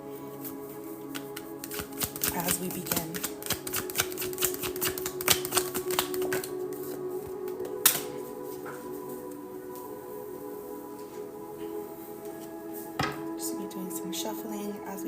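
Tarot cards are shuffled continuously during a live reading, a steady fast riffle and rustle that runs almost the whole time, with a soft voice speaking briefly over it.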